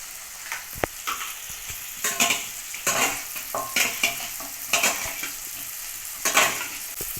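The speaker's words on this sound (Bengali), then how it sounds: "টক দইটা দিয়ে আমি চিকেনটা মাখা মাখা করে নেব" Fried chicken pieces being stirred and coated with sour yogurt in a pan, with repeated scraping strokes and a soft sizzle beneath, close and rhythmic with no talk.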